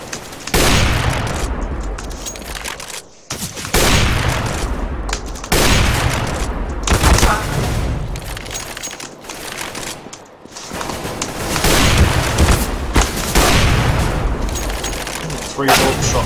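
AWP and AK gunfire from a shooter game comes in long, dense bursts of loud rapid shots with short gaps between them, while someone talks over the action.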